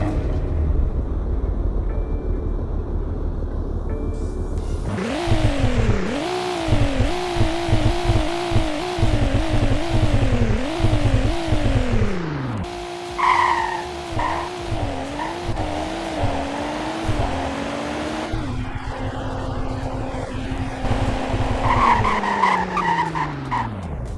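A rear-wheel-drive BMW M3 in a Roblox video game revs repeatedly with rising and falling engine tones, and its tires squeal and skid loudly throughout.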